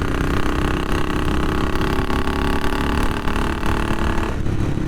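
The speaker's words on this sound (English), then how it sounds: "we're patting along 50 mile an hour on a country lane on an old British bike" An old British BSA motorcycle cruising at around 50 mph on a country lane: a loud, steady engine drone with wind noise throughout, close and continuous.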